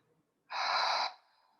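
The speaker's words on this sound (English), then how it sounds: "Exhale out through the mouth." A single long breath pushed out through the mouth, a soft airy whoosh lasting about half a second in near silence.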